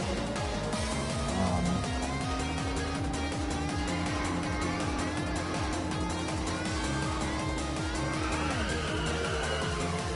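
Racing video game Twilight Rivals: a steady car engine drone with shifting pitch runs throughout, with tire squeal and skidding layered over it and dense game effects, no talking.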